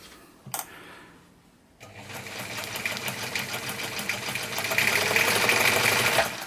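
A thrift-shop Singer 190 sewing machine, serviced and repaired, gives a brief click, then starts and runs smoothly at a steady, close whir that grows slightly louder over several seconds.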